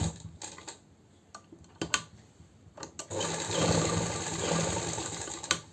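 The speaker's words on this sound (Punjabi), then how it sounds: "ਇਹਦੇ ਉੱਪਰ ਵੀ ਆਪਾਂ ਸਲਾਈ ਲਾ ਲਾਂਗੇ" A sewing machine stitching a kurti collar, with scattered ticks and handling taps at first, then a steady close whirring run of stitching in the second half.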